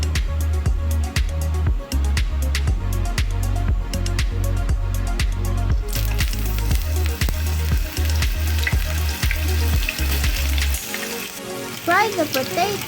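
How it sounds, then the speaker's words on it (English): Potatoes and bananas frying in a quarter cup of cooking oil in a frying pan, a steady close sizzle with rhythmic bursts of stirring or pan contact, continuous throughout with a quieter, clinkier stretch near the end. "Fry the potatoes and bananas, then set aside"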